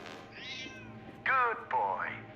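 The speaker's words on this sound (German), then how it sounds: "Lux, who's a clever cat?" Cat meows from the puzzle game Lightmatter: three short, clear mews in quick succession, the last two louder and rising, heard close with faint background ambience and no talking.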